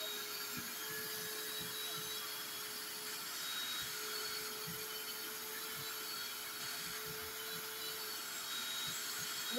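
A vacuum cleaner cleaning a truck wheel drones steadily at moderate volume, a continuous whine with faint knocks and scrapes underneath.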